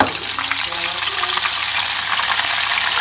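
Battered food crackles and sizzles loudly in oil over low heat, a dense steady hiss with bubbling throughout.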